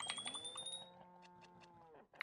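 A cow moos in the Roblox Islands game, a long low drawn-out bovine call with rising harmonics, clear and close, ending with a short clatter and no speech over it.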